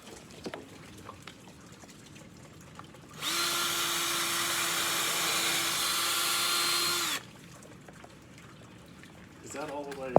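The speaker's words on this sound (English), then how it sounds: "we're gonna pre-drill the holes and then sink in the framing screws to hold that" A drill drives framing screws into wood while repairing an antique front entryway, one steady whirring run of about four seconds, close and loud, then stopping, with quiet shuffling and handling sounds around it.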